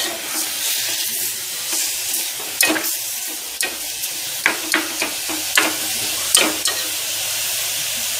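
Snake gourd pulao ingredients sautéed and stirred in a pan, giving a soft steady sizzle broken by a series of sharp spatula scrapes and knocks, close and clear.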